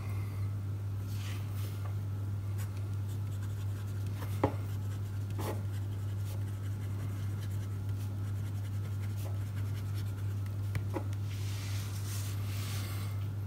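Fountain pen nib scratching across paper with Parker Quink Black or Bril Black ink, faint soft strokes with a few sharper ticks over a steady low hum, no talking.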